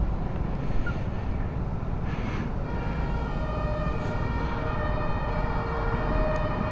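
An ambulance or police siren approaching on a street in Berlin, its wailing tones carried over steady wind and traffic rumble for several seconds, no talking.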